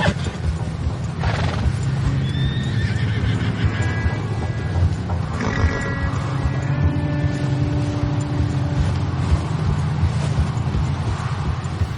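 Horses whinnying and neighing in the Red Dead Redemption 2 video game, with a couple of rising calls over a continuous background rumble and scattered hoof clip-clops.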